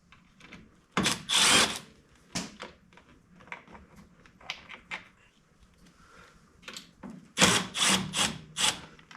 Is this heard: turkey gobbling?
no